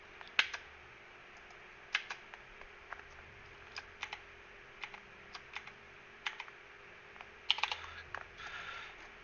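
Keys clack on a Razer BlackWidow keyboard in scattered, irregular bursts of crisp clicks, close and fairly quiet, with short pauses between and a quick cluster of presses near the end.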